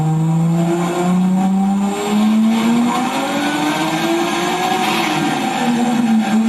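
A car engine revs on a dyno during tuning with a brand new setup, loud and close, its pitch climbing steadily then dipping, with a high-pitched whine over the roar.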